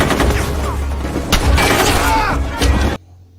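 Rapid bursts of gunfire crack and boom continuously, loud and close, then cut off abruptly into near silence.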